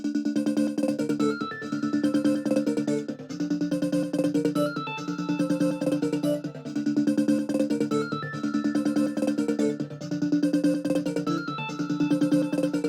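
A simple sine-like synth lead from Expand loops a repeating melody over a steady beat with other layered synth sounds, in a trap-style instrumental built in FL Studio.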